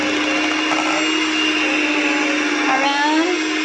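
Electric hand mixer beating cheesecake batter with egg: a steady, loud motorized whine with a constant hum and light rattling, running without pause for nearly four seconds, with no talk over it.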